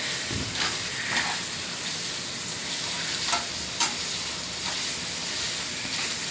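Bacon frying in a pan at breakfast, a steady close sizzle with scattered pops and occasional stirring scrapes, no voices.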